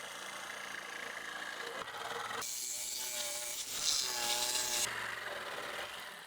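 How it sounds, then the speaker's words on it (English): A jigsaw cuts a curved edge through pallet-wood boards for a pumpkin-shaped yard decoration, a buzzing, rasping saw that starts softly then surges louder in sustained bursts, close by with no talking. "Now we're just going to round over the bottom of the pumpkin with the jigsaw."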